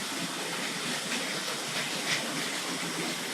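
Tri-ang model railway goods wagons roll along the track past points, giving a soft continuous rolling hiss and faint rattle at low volume, steady throughout without speech.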